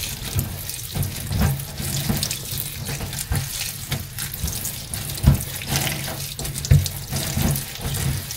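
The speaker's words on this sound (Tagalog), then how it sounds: "hugasan mo maigi para matanggal na rin yung mga alikabok" Steady rush of tap water running into a sink while leaves resembling bitter melon leaves are rinsed under it, with occasional splashes and knocks close by and no voices.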